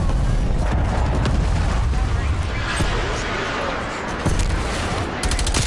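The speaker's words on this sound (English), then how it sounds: "Enemy attack. Cruise missile inbound." A cruise missile strike in Call of Duty: Black Ops Cold War hits with a dense, loud wall of booming explosions and crackling gunfire, rolling on continuously as voices talk over it.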